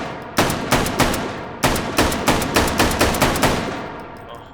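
A 1941 Johnson long-recoil rifle fired in the VR shooting game H3VR gives about a dozen loud, sharp gunshots at close range. They come in two quick strings separated by a short pause, each with a brief ringing tail.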